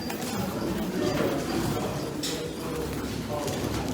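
Homer pigeons coo among a busy crowd at a pigeon market in Amman, Jordan, their soft murmuring blending into steady background chatter and shuffling that continues throughout.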